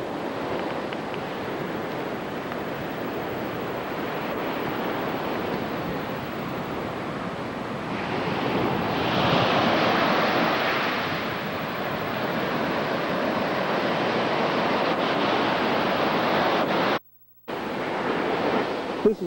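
Ocean surf rolling onto Poipu Beach on Kauai, a steady broadband wash of waves with wind noise on the microphone, swelling louder near the middle and cut by a brief gap toward the end.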